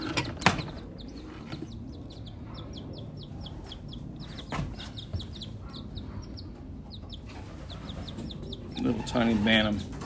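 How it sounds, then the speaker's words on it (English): Small bantam chicks in a homemade brooder box give quick high peeps and soft clucks, close and fairly quiet, alongside handling noises and a louder flurry near the end. "Little tiny bantam chicken hens, or I don't know if they're hens, but little bantam chickens"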